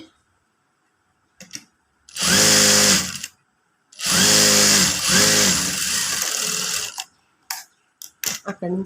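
A sewing machine runs close and loud while stitching a Katori blouse, in two steady bursts of about one and three seconds separated by a short pause, with a few brief clicks between runs.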